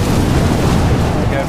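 Loud rumbling explosions of enemies in the game Hell's Reach, a dense continuous roar filling the short span.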